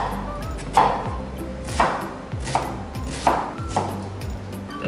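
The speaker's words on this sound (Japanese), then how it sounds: "玉ねぎとエリンギをこちら切っていきますね" A knife mincing onion and eryngii mushroom on a cutting board, several sharp chops landing at an uneven pace, close and clear with no talk.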